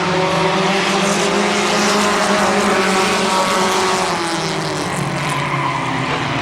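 Compact race cars at Midvale Speedway roar steadily and loudly around the track, several engines blending into one sustained, dense drone with no pause.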